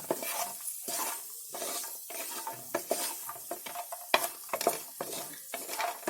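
Food roasting in a pan on a low gas flame as part of Hyderabadi-style chicken biryani, with soft scraping and stirring strokes over a faint sizzle, irregular and fairly quiet.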